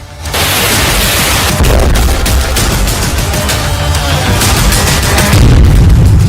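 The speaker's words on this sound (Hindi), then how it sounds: "सामने ही धमाका, धुआं ही धुआं" A guided bomb explosion in Kharkiv during the Russia-Ukraine war: a loud, sustained explosive roar with crackling bursts and rumbling low end, continuing without pause for several seconds.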